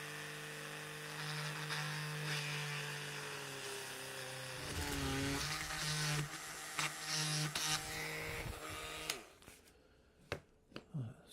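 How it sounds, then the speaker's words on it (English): A drill boring out a beater bearing on a Kirby Legend Heritage 2 vacuum, a loud, steady, close whine that shifts pitch partway through, then cuts off and is followed by a few sharp clicks and knocks. "Drill this out then."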